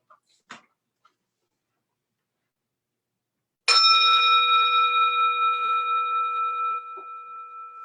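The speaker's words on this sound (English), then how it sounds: "Ring the bell." A single church bell strikes and rings out loudly with a long sustained, slowly fading tone, heard alone after a couple of faint clicks at the start of a Sunday service.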